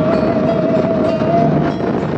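Train passing near Rajapolah in Tasikmalaya, West Java, makes a loud, steady rumble of rolling wheels with a sustained tonal whine throughout.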